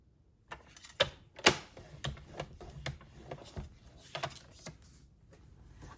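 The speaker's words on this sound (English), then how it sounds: "And scoring this at 1/2 inch" Calypso coral card stock is scored at half-inch intervals with a series of sharp clicks and scraping strokes in an uneven rhythm, close by and fairly quiet.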